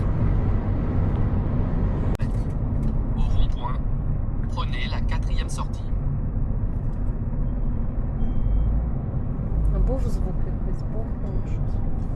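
Broken-down car with a burst hose and black smoke trailing, driving on a highway and about to leave the road: a constant loud low engine and road rumble fills the whole interior, with people talking over it throughout.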